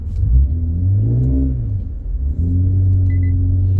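A car accelerates on a snowy road in Montréal, its engine rising in pitch through two strong revving pulls separated by a brief dip, close and loud throughout.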